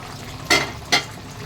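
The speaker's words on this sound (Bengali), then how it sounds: "এইভাবে এবার আমি মাংসটা কষাবো" Mutton being sautéed in a pot, with two quick, bright scraping strokes of a spoon about half a second apart over a faint, steady background sizzle, close and distinct.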